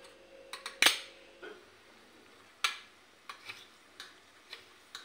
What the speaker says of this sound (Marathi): मोहरी तडतडल्यावर